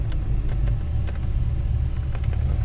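An Alfa Romeo GT with the 3.2 V6 Busso engine pulling smoothly in second gear at about 1100 rpm, a steady, deep, low engine rumble heard from inside the car without surges.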